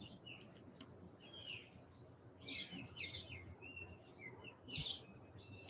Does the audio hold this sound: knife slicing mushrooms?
no